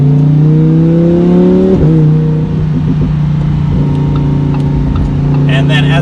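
2020 Lamborghini Huracan EVO supercar exhaust in an underpass, a loud steady engine drone with strong harmonics that shifts pitch partway through as the car runs on, continuous and close.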